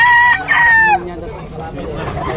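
A rooster crows loudly and close by at a busy market selling chickens, two strong harmonic calls in quick succession followed by a lower murmur of the surrounding crowd.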